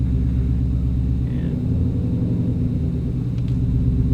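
Low, steady engine rumble heard from inside the cabin of an orange 2018 Ford Mustang GT with a manual gearbox, a continuous deep drone that thickens slightly partway through, with no talking.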